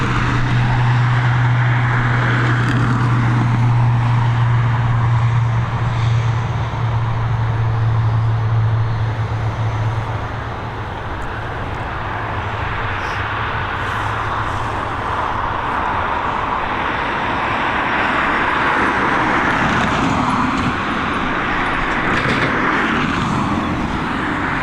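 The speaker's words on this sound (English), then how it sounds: "Here we go, our next departure, this ATR 72600." An ATR 72-600 turboprop departing Dublin Airport, its steady engine roar and propeller drone heard from a distance, loud and continuous with a low hum early on, no talk.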